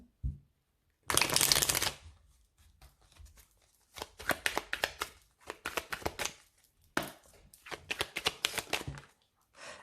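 Indigo oracle cards are riffled and shuffled close by in repeated bursts: a long crisp flutter, then a series of rapid shuffling runs broken by short pauses.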